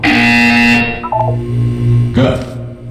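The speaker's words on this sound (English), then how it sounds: "When you hear the buzzer, look down at the floor." Electronic buzzer tones in the Portal 2 video game, a few short sustained tonal bursts standing out clearly over a voice talking.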